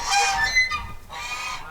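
Several geese on a small farm in winter honk loudly in two nasal bursts with a short gap between them, close by, with no talk.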